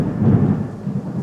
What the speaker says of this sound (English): Power went out due to all this thunder.